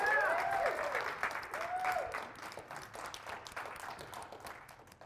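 An audience at a talk in Colorado Springs applauds, a moderate burst of clapping that fades away over a few seconds, with some voices mixed in.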